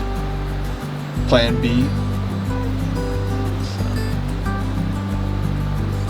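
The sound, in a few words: river flowing in a forest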